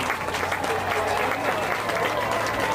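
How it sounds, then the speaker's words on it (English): Applause from a crowd at a 2005 high school football game, a steady dense wash of clapping lasting a few seconds with no clear pauses, moderately loud and mixed with crowd noise. "there was a round of applause"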